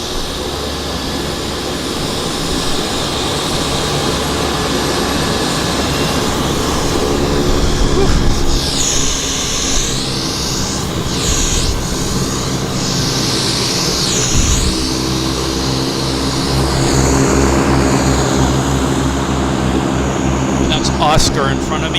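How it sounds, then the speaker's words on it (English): A Beech 1900 turboprop taxiing at Vancouver Airport, a loud, steady propeller and engine drone with shifting whines. Someone talks over it throughout. "Beach 1900 taxiing out behind me"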